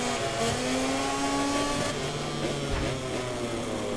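A KTM motorcycle engine in a MotoGP racing video game hums steadily at a moderate level, its pitch shifting slightly as the bike runs, with no voice over it.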